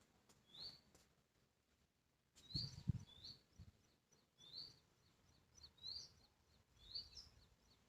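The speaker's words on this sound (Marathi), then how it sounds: "चला आता पक्ष्यांच्या किलबिल" Small birds chirp in the morning in short, repeated high calls, faint and fairly distant, with a brief low thump partway through.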